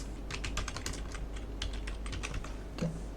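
Fingers type on a computer keyboard while entering a shape name in an Excel sheet, giving quick close bursts of key clicks with short pauses, no talking.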